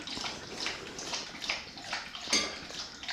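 Steady trickling water runs throughout, a small pet water fountain for a dog burbling close by with soft splashes and occasional brighter drips.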